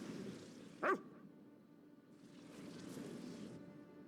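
A single short bark from a dog in the Rivenspire region of a fantasy role-playing game, sharp and fairly close, over a quiet ambient hum.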